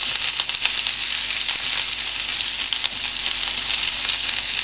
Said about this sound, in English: I'm going to add my vegetables. Oh yeah, listen to that.